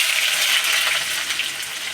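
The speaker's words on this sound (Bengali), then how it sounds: "গোটা জিরে ফোড়ন দিয়ে পেঁয়াজ দিয়ে দেবো" Sliced onion with whole cumin seeds frying in hot oil in a kadai, giving a loud, continuous close sizzle that eases slightly toward the end.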